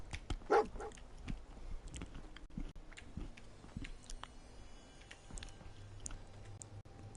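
The dog companion Dogmeat in the video game Fallout 4 makes a short bark-like yelp near the start, followed by faint snuffling and chewing-like sounds over game ambience.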